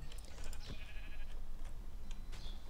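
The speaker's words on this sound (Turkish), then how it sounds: "Koyun havada kaldı." Sheep bleats from the Minecraft video game, several short bleating calls spread across the clip over steady game background noise, with no talking.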